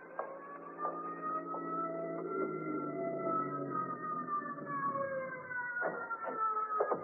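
A siren wails and slowly swoops in pitch, fairly faint as though some distance away, rising and falling steadily for several seconds.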